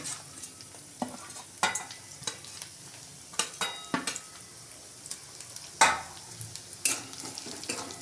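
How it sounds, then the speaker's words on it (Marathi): Masala fries in hot oil for a village-style brinjal gravy, a faint crackling sizzle under scattered scraping strokes of a spatula against the pan, close and otherwise quiet. "शिल्लक राहिलेला सगळा मसाला आपण तेलामध्ये परतून घ्यायचा आहे."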